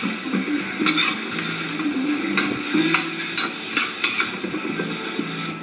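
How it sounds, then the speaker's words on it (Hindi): Chicken breast pieces being stirred in a pan, with repeated sharp scraping and clinking knocks of the spoon against metal at an uneven rhythm and a faint sizzle underneath. "अब इसको बड़े प्यार से हल्का हल्का हिला रहा हूँ"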